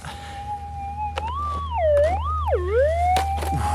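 A metal detector gives a loud, continuous electronic tone over a gold target at an abandoned gold mine, the pitch swooping up and down in siren-like sweeps above a steady low hum, close and alone.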